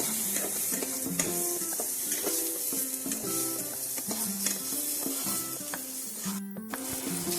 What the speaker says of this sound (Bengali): খুব সামান্য একটু হলুদ দিয়ে বেগুনগুলোকে আমি ভেজে নেব, হালকা করে ভেজে নিতে হবে।